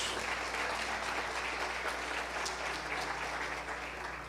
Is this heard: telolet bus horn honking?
no